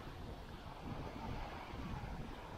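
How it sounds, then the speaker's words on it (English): Wind blows steadily across an Alabama Gulf Coast beach during winter surf fishing, a broad continuous rush with surf mixed in and buffeting on the microphone, with no talk over it. "Like that wind."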